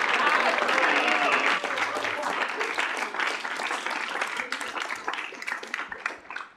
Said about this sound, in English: So if we could give William a round of applause.